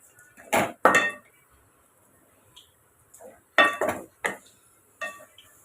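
Metal utensil clanks and scrapes against a cooking pan as cooked chicken is stirred into curry, a few sharp clinks in short bursts separated by quiet gaps, close and fairly clear with no voices.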